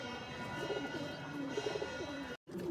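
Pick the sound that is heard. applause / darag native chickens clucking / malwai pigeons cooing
malwai pigeons cooing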